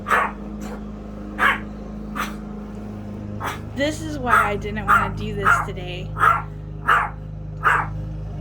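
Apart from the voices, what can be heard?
dog barking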